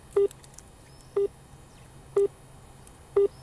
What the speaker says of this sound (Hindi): ये पूरा टू टू हो रहा है लेकिन नहीं बज रहा है